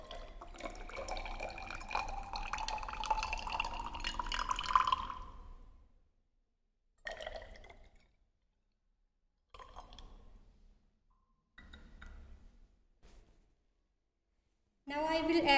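Water poured into Nessler cylinders while diluting standard and test solutions for a chloride limit test, a steady running, trickling flow for about six seconds, then a few short splashes and drips, close and moderately quiet.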